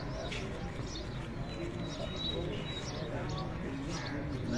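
Racing pigeons land at a rooftop loft, giving soft repeated coos and brief chirps over a steady outdoor background hum, moderately close but quiet, with people talking faintly nearby.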